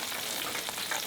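A battered blooming onion frying in hot oil, a dense, steady crackling sizzle throughout the brief moment, close and fairly quiet with no talking.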